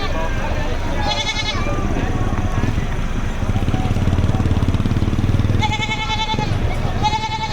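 Goats bleat in short, wavering cries at a livestock market in Padre Garcia, a couple near the start and more toward the end, over a loud engine rumble and voices.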